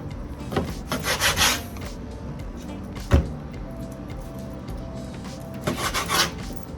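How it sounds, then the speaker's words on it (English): A knife trimming excess fat off raw chicken for Jamaican curry chicken, heard as close scraping and rubbing strokes in short bursts near the start and end, with a single sharp knock in the middle. "I'm basically cutting off the excess fat."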